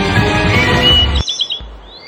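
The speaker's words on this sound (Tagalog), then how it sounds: "Sari-saring ibon na tila hiniheleka sa kanilang mga huni." Assorted birds chirping and calling in an eco park, a dense layer of tweets under broad background noise that cuts off abruptly midway, leaving a few faint high chirps.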